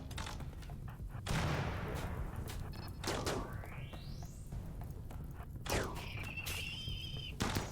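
Gunfire in the RimWorld video game comes as scattered sharp shots and short bursts at a low, distant level. Sweeping tones and impact thuds sound between them, with no talk.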